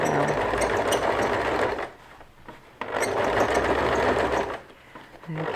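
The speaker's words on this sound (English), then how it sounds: "Just let the feed dogs of the machine do the work there." A sewing machine stitches a hem on a pair of jeans, running in two steady bursts with a short pause between them, close and loud, while a voice briefly speaks.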